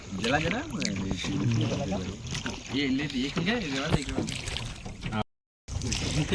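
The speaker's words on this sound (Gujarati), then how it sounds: "આવી રીતે કાકા હોડી ચલાવી રહ્યા છે બે અને બે હાથે" A rowboat rowed with two oars through water at Zoz Dam, Ghoghamba, with oar strokes and splashing mostly buried under steady nearby talking.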